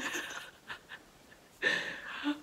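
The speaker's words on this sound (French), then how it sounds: "Tu ronfles trop fort, mon chien." A dog snores with a few soft rasping, breathy breaths spread apart, then one louder snore near the end, close by and without talk.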